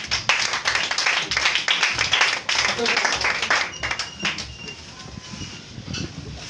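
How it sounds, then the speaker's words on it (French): A church congregation applauding together, sustained rhythmic clapping from many hands that is loud at first and gradually thins out, with voices mixed in underneath. "On acclame la parole."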